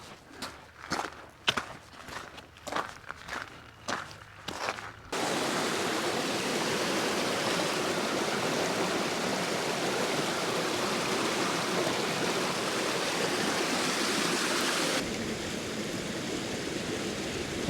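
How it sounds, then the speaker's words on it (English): Light rain falls on a tent during a wild camp on Dartmoor, a steady close hiss that holds for about ten seconds after a few opening taps and rustles, then drops to a quieter wash. "And now I have a little spitty bit of rain."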